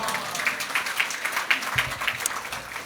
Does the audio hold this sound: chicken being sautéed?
no